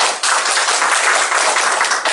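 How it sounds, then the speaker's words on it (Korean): Lively applause from an audience at a national park mountaineering school lecture, a dense steady wash of many hands clapping that fills the whole stretch at close, loud level. "박수."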